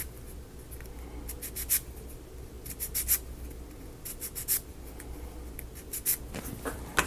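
Small book nook kit pieces from a Rolife Bookstore build get their burrs rubbed and scraped away in short, dry scratchy strokes, close and fairly quiet, with brief louder scrapes now and then and no talking.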